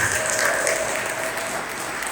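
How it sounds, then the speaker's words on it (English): Audience applause fills a candidate forum for a ward aldermanic run-off, steady clapping from a crowd that holds evenly throughout with no break. "I think you deserve a round of applause for that."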